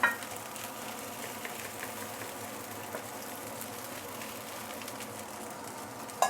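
Thai fried rice with prawns sizzles steadily in a hot pan, a loud and even frying hiss that holds without a break throughout.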